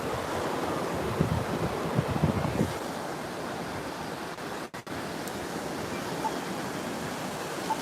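Ocean surf at Topsail Island beach, heard while wading through the water: a steady, close wash of waves mixed with wind buffeting the microphone, with a brief dropout partway through.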